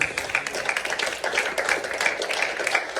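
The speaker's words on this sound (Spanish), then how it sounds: "Un aplauso a la gloria de Dios" Congregation clapping in a church service, a steady rhythmic beat of many hands at moderate volume for about three seconds with no talk over it.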